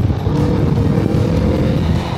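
A remapped Yamaha XSR 155 motorcycle engine revs hard and close, a loud, dense, continuous roar that stays strong across the whole stretch with no voices over it.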